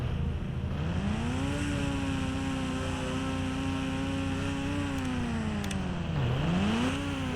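A video game scooter engine whines steadily, its pitch rising as it revs, holding, then dipping and climbing again near the end, fairly loud and alone with no talking.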